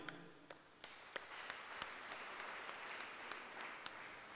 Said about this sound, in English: The other thing I want us to clap for this Mr. Nixon.